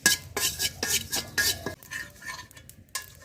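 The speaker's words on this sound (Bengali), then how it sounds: "শুকনা খোলায় জিরা টালা হলো" Cumin seeds dry-roasting in a pan, with a utensil scraping and stirring in quick repeated strokes and a faint crackle beneath, close and fairly quiet, no voices.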